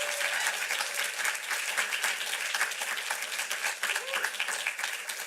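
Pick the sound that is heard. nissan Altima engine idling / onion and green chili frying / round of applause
round of applause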